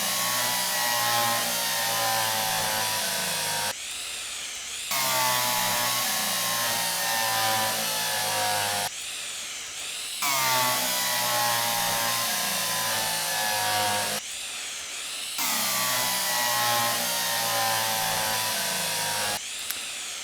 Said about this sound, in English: I'm going to drill these holes